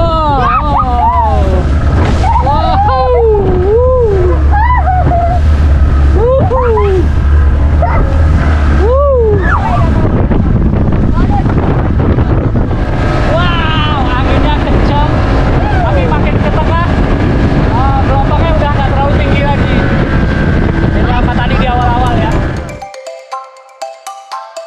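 Steady roar of wind and engine as a speedboat pushes through high waves in strong wind, with voices talking loudly over it throughout.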